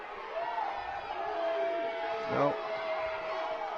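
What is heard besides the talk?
crowd yelling squeeze at a wrestling match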